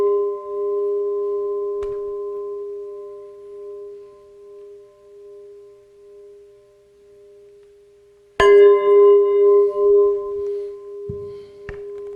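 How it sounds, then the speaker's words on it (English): A Burmese gong, made in Myanmar, hums with a steady ringing tone, then is struck firmly, giving a loud, bright, shimmering crash that slowly decays, with a few softer knocks afterward. "the gong that Jim rang, this gong"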